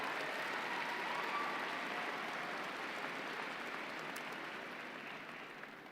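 Graduation ceremony audience applauds, a broad, steady wash of clapping from a large crowd heard at a distance, gradually tapering toward the end.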